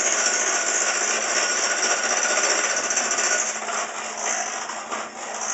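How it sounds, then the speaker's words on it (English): A blender runs continuously, mixing eggs into cream cheese, with a loud, steady, close-up motor roar and grinding whir that barely varies and dips only slightly toward the end. "we're going to blend this so that the eggs get blended really well with the cream cheese"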